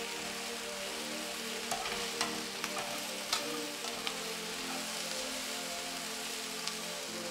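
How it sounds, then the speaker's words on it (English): Brussels sprouts are tossed with balsamic vinegar in a hot pan, making a steady loud sizzle with occasional light clinks and stirring scrapes throughout. "really coating each Brussels sprout with the balsamic vinegar"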